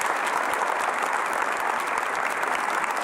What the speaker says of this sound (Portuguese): Pode aplaudir, já vai aplaudindo.